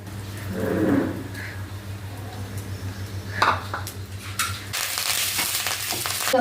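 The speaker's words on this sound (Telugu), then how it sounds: "దాని తర్వాత ఎండుమిర్చిని మీడియం ఫ్లేమ్లో పెట్టుకొని వేపుకోవాలి" Dry red chillies fry in oil over a medium flame for peanut spice powder, crackling softly with scattered stirring clinks, then a louder burst of sizzling as curry leaves go in near the end.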